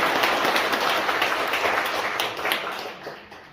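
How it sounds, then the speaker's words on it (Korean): An audience at an evening Mass in a Seoul education hall claps warmly for council member Lee Yong-seok. The dense, steady applause fills the room, then thins out and fades toward the end. "우리 이용석 의원님께 다시 한번 뜨거운 박수 부탁드리겠습니다"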